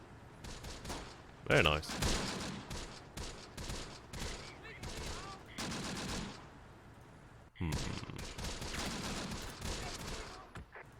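Airstrike in the Close Combat: The Bloody First war video game, heard as repeated bursts of explosive gunfire and booms, one sharp loud blast early and another heavy surge later, with someone talking over the battle.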